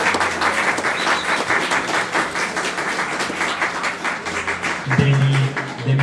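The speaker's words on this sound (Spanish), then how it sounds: "aplauso." An audience at a book discussion event bursts into steady, full applause that holds throughout, with a brief louder tonal sound near the end.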